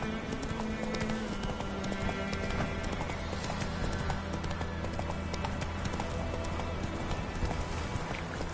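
Roach, a horse in The Witcher 3: Wild Hunt, gallops with a fast, continuous clip-clop of hooves, steady and close throughout the stretch.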